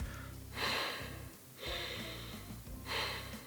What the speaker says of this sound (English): the more husky your breathing sounds, the more asleep you sound